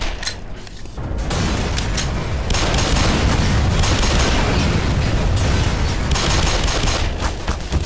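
Sustained gunfire in the Black Mesa shooter game, a dense, loud barrage of rapid shots that builds after a brief lull near the start and continues steadily to the end.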